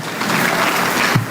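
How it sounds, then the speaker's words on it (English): Applause for board members at an awards event, a short burst of many hands clapping in a room, loud and close, with no talk over it. "Another round of applause for all of our board members, executive board members, everyone"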